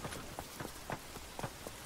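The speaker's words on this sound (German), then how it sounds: "Es regnet." Rain falls in The Witcher 3 as a soft, steady hiss, with faint rhythmic thuds beneath it.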